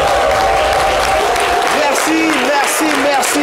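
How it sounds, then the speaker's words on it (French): A studio audience on a talk show gives a standing ovation to an Ivorian film figure, with applause and crowd noise mixed under voices and cheering that rise and fall. "on va te célébrer avec des applaudissements. Un standing ovation."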